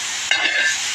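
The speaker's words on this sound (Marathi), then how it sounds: "आणि दोडका पहिला तव्यावर भाजून घ्यायला लागलो चुलीवर." Sliced ridge gourd roasts on a hot griddle over a wood-fired stove, giving a close, steady sizzle and hiss with a brief louder burst of crackle.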